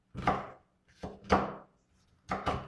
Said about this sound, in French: Après avoir coupé le poivron rouge, nous couperons également le poivron vert.